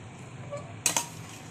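A spoon stirs cumin powder and other spices in a pan for methi chicken: a quiet background, then two quick metallic clinks close together near the end.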